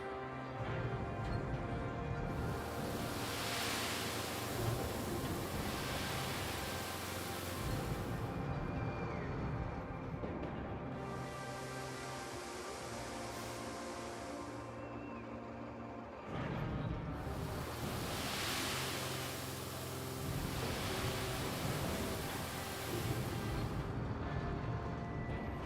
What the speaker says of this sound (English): Like the sand pouring sound?